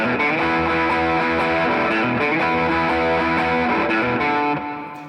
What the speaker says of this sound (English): all up, the riff will sound like this.